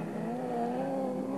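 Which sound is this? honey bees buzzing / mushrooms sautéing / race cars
race cars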